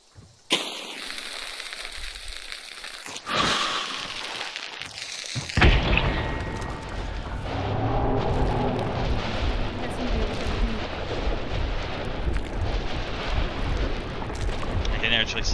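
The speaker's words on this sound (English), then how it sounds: "About to detonate, Mike." A detonation goes off with a sudden loud blast, followed by a long rumbling, crackling roar of debris and echo that persists to the end, after a quieter lead-in with a brief sharp crack.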